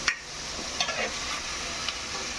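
Mung beans go into a hot pan with a brief burst of sizzling, followed by scraping stirs and a constant frying hiss, close up with no talking.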